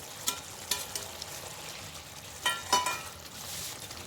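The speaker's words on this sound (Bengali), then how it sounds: "এবার আমরা এর মধ্যে পাবদা মাছগুলো দিয়ে দিচ্ছি" Pabda fish slide into a simmering spicy Bengali-style mustard-oil curry, giving a few short, sharp splashes and sizzles over a soft, steady bubbling, close by with no talking.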